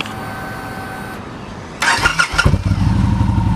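A 2013 Victory Hard-Ball motorcycle with aftermarket parts cranks over and fires up, quiet hiss giving way to a starter whir and then a loud, rumbling V-twin idle that continues close by.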